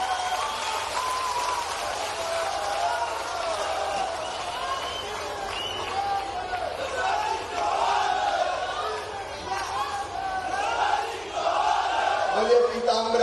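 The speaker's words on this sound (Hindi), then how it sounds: "माननीय शिवराज सिंह जी चौहान का जोरदार तालियों से स्वागत और धन्यवाद" A large crowd at a public airport groundbreaking event in Datia applauds and cheers to welcome Chief Minister Shivraj Singh Chouhan, a sustained roar of clapping and shouts that swells toward the end, with voices mixed in.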